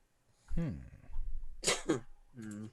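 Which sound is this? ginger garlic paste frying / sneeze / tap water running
sneeze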